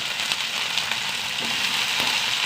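Sliced green chilies and a handful of shallots sizzle steadily in a hot pan, a continuous close frying hiss with no speech.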